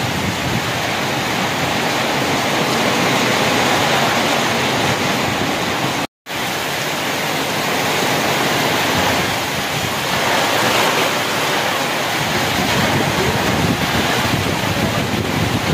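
Heavy rain lashing down with stormy wind in Gondia district during unseasonal weather, a loud, steady broadband roar that continues without letup apart from one brief cut near the middle.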